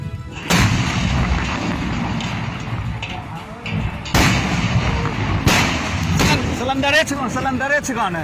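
A truckload of gas cylinders explodes in Bhagalpur, heard as a continuous roar broken by several sharp, heavy blasts at a distance, with people talking over the din.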